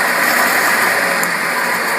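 An old disc sander motor runs steadily while sanding, giving a dense, continuous whir and grinding hiss at a close, constant level, with no talking.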